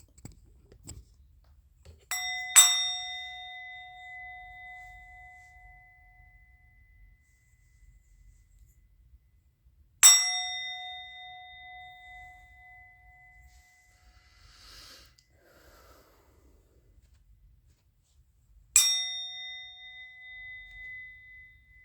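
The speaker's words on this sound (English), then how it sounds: "I'm going to ring the bell." A bell is struck three times at roughly eight-second intervals, each a bright, clear ring that fades slowly into near silence.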